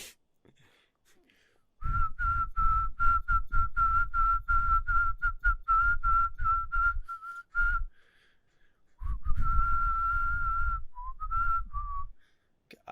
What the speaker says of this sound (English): Do the 76ers song in a whistle.